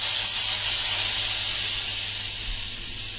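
Boiled chana and cumin hit a few drops of hot oil in a tempering pan, giving a loud, close, steady hiss and sizzle that slowly fades slightly.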